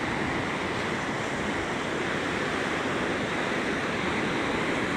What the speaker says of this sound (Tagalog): Dagko pa kayong balod guys.